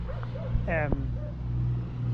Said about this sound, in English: those are dogs barking, dogs in the neighborhood